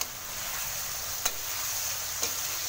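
Pork mince frying on high heat in a pan for a vegetable stir fry, a steady close hiss of sizzling fat with two faint clinks of a utensil against the pan.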